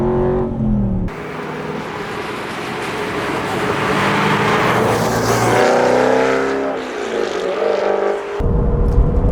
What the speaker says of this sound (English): Let's drive the GT8 and see.